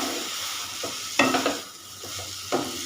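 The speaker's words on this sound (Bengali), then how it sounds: "গাজরটাকে খুব ভালো করে ভাজতে হবে।" Grated carrot sizzles softly in a frying pan while a spatula stirs and scrapes it in several short, sharp bursts, close and clear with no talking.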